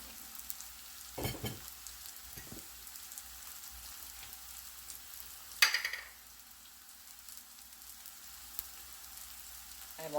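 Onions, ginger, garlic, tomatoes and turmeric fry in a pan for a Kerala fish dish, a steady close sizzle with a few soft stirring knocks and one sharper clink midway, no talking.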